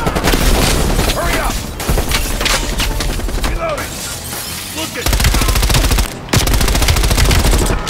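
Heavy gunfire fills a Call of Duty Black Ops Cold War campaign battle, with loud sustained machine-gun bursts and booms that pause briefly a few times, and a player talks over them.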